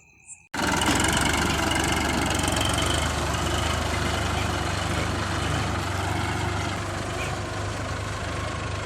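A new New Holland tractor engine with about two hundred hours of use kicks in abruptly and runs loud and close with a steady, rumbling drone that holds evenly to the end.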